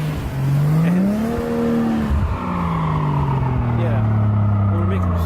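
A car on Firestone all-season tires stuck in a snowy driveway, its engine revving and falling as the wheels spin, loud and close, with a voice speaking over it.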